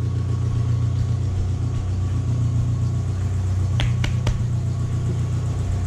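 A Toyota 1UZ-FE V8 engine running on only two cylinders idles with a loud, continuous, uneven rumble, and a few sharp clicks sound close by near the end.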